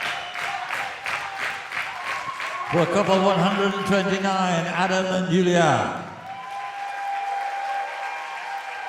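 A ballroom dance audience at an amateur Latin final in Bournemouth applauds the competing couples, a dense steady clapping crowd that swells with cheers under an announcer's amplified voice, then drops to a quieter murmur at the end.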